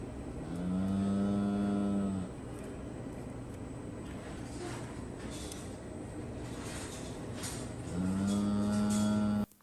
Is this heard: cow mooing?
yes